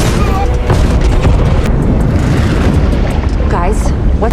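A deep, booming underwater explosion destroying a submarine roars continuously with heavy low rumble and crackling debris, loud and close.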